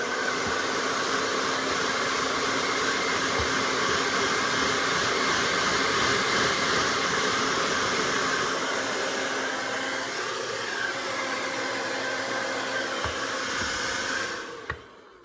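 A hair dryer blows a loud, steady rush of air while drying a Yorkie's long coat, running continuously before cutting off abruptly at the end.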